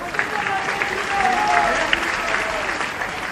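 A crowd at a Rajasthan Gaurav Yatra rally in Baran claps in a sustained, even round of applause. Voices are faintly mixed in beneath the clapping.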